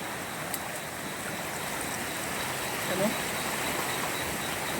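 Strong floodwater rushing through a large canal after heavy rain, a broad steady roar of flowing water heard from a distance, with a voice talking over it.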